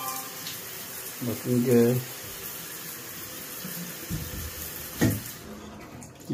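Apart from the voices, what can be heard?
motel shower running water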